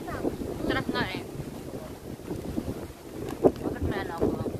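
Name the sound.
wind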